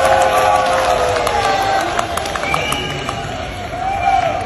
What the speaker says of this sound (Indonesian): Okey, kita tepuk tangan sikit untuk pakcik ni.